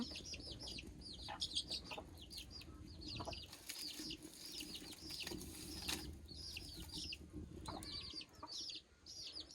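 Village chickens cluck and chatter almost continuously over a low background rumble, faint and somewhat distant, with many short overlapping calls throughout.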